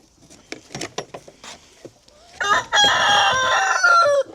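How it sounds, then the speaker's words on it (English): Farm chickens give a scatter of short, sharp clucks close by, then a rooster lets out one long, loud crow that carries to the end. "I just don't like chickens."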